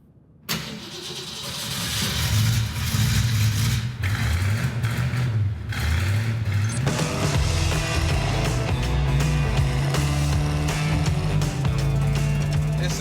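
A 500 hp Ford Mustang Dark Horse V8 fires up with a sharp bark, then revs and rumbles loudly and steadily at close range, settling into a deep, rough idle.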